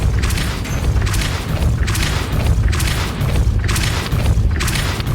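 Depulso spell in Hogwarts Legacy cast repeatedly, a series of about five heavy booming force blasts at a steady rhythm, each swelling then fading into a low rumbling bed.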